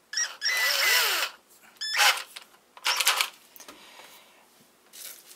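A small power drill fitted with a miniature car polisher attachment whirs up in several short bursts, high-pitched and close, separated by quiet gaps with faint clicks and handling noises.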